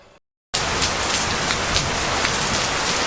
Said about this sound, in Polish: mamy burzę, mocno pada